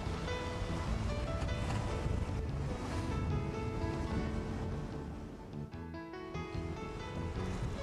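Water rushes and splashes steadily against the hull of a MacGregor 26M sailboat sailing on just its mainsail, with wind buffeting the microphone throughout; no voices.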